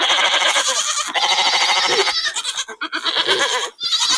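Rapid-fire sheep bleats triggered from a soundboard, a loud, wavering stream of overlapping baa sounds repeating in quick succession, then breaking into short choppy bursts near the end.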